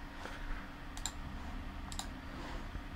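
A couple of crisp, quiet clicks a second apart, like a computer mouse button pressed at a desk, alone against low background hiss.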